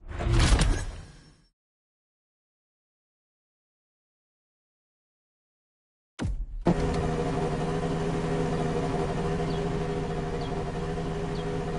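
Car engine from The Crew Motorfest drift event, a brief swoosh, then silence before a steady mid-pitched engine drone holds through the rest, continuous and fairly loud.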